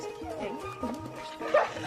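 Several strong male dogs bark and whimper in overlapping bursts, with voices talking over them throughout and a sharper yelp near the end.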